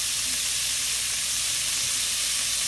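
Hamburger meat frying in a pan for jambalaya, a loud, dense, unbroken sizzle that holds steady throughout, close up and without talk.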